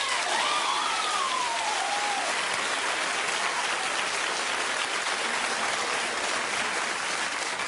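A studio audience at a daytime talk show applauds in a steady, dense wash that sounds like rain, moderately loud and continuous with no talking over it.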